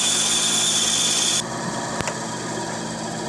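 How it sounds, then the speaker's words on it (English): A bandsaw cuts through deer bone with a loud, steady high-pitched whine that drops abruptly as the cut finishes, leaving the motor running on with a brief knock. "With any luck, that's all we need the bandsaw for."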